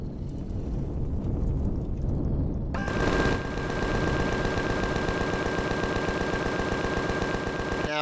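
Ship guns fire on an enemy craft in the space survival game Empyrion, Alpha 10. After a few seconds of rumbling engine noise, a loud, rapid, continuous burst of automatic fire runs to the end.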